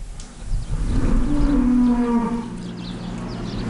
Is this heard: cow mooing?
yes